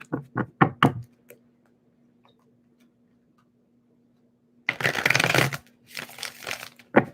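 Tarot cards are shuffled close by in short bursts: a few quick riffling taps first, then a long quiet stretch with a faint hum, then a longer, louder run of riffling and card slapping.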